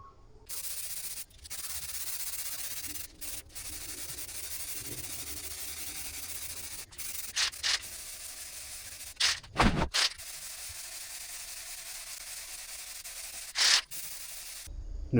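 Spray paint hisses in short bursts and longer steady passes as a first base coat goes onto a home-built A320 cockpit pedestal, with brief pauses between strokes and no talking.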